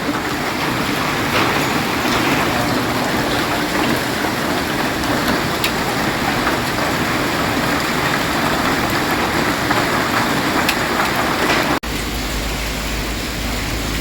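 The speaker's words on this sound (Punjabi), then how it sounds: "ਲਗਾਤਾਰ 15-20 ਮਿੰਟ ਹੋ ਗਏ ਐ ਗੜੇ ਪੈਂਦੇ ਹਨ" Hail pelts down in a loud, continuous clatter, dense and unbroken, easing slightly toward the end.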